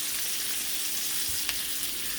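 Sausage and cabbage frying in an enameled cast iron skillet, giving a soft, even sizzle at low level with one or two faint clicks. No voices.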